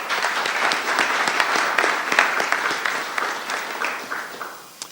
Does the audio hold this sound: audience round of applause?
yes